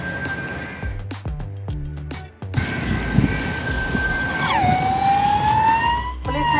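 Police car siren wailing on a busy street during a lockdown, starting with steady high tones then sweeping down in pitch, loud and close over constant traffic noise and passing vehicles.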